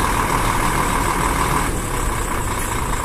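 A Scania truck pulling a tritrem tanker triple trailer idles to build air pressure, giving a loud, steady diesel rumble with a droning hum close up, with no talk.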